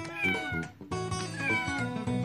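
A kitten meows several times in quick succession, the high, wavering cries close and clear over a steady bed of light background music.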